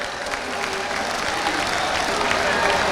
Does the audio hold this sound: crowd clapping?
yes